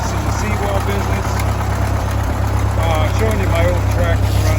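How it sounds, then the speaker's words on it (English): An old Ford 8N tractor engine runs steadily at idle, a loud continuous low rumble with a constant throbbing hum close by, and no talk over it. "Showing you my old tractor running, 8 and 4."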